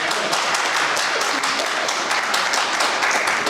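Audience at an industrial convention panel and felicitation applauding warmly, a steady dense patter of many hands clapping at close range for the whole stretch.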